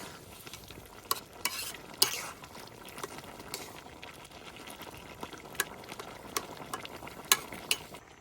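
A fish head cooks with potatoes in a pan while being stirred, close bubbling and sizzling broken by sharp scraping knocks of the spoon at irregular intervals, with no voices.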